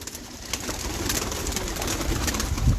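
A female performing pigeon, four years old, coos steadily and close by from inside a cage, the low repeated coos filling the short stretch with no talking.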